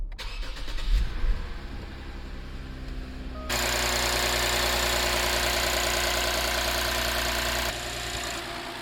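A Toyota Mark X GS with the 2GR-FSE V6 and a newly fitted intake cranks and fires at about three and a half seconds, then holds a loud, steady idle before it drops slightly lower near the end.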